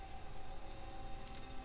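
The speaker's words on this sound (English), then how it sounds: "Yeah, it's raining right now." Rain falls during a night in the survival video game 7 Days To Die, a steady hiss of raindrops on surfaces with a faint tonal hum running underneath.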